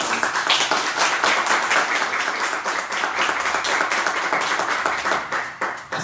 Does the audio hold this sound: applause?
yes